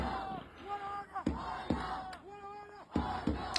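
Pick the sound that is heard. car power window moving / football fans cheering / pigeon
football fans cheering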